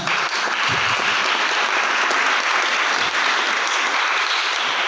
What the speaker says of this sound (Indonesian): cukup bagus, tepuk tangan